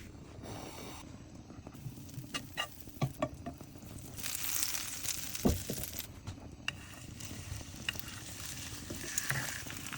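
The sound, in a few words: burger patty frying in a pan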